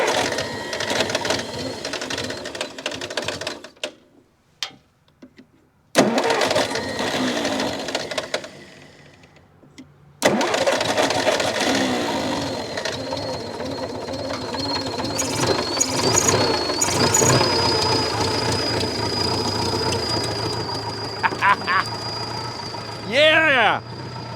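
A Massey Ferguson MF711 skid loader engine, old and unrun for decades and with a small exhaust leak, cranks in short bursts, then catches and settles into a loud, steady idle that runs on close by while people talk over it.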